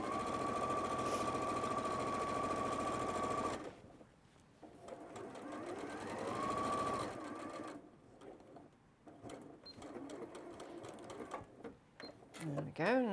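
A sewing machine runs a quilt pocket seam with a steady close whir that cuts off partway through, followed by fabric handling and brief restarts, with a person talking over parts of it.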